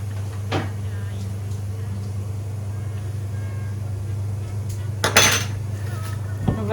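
Sticky rice set onto a small warm plate for Thai mango sticky rice, with a few clinks and scrapes of plate and cutlery standing out near the end over a steady low hum.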